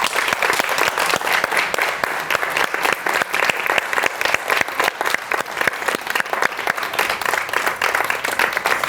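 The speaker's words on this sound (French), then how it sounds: "Un tonnerre d'applaudissements pour les enfants." An audience at a children's theatre workshop in Les Avirons claps loudly and continuously, a dense, even roar of many hands that holds steady from start to finish.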